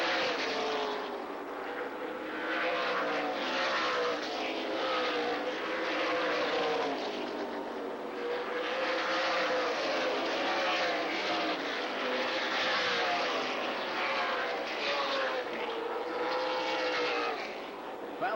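Stock cars racing around La Crosse Speedway in a NASCAR short-track event, with a steady, loud engine roar that rises and falls as the cars sweep past.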